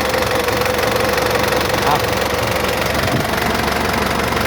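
A four-wheeled car's engine idles steadily, a loud, close, continuous rumble with slight knocking texture, a voice heard over it.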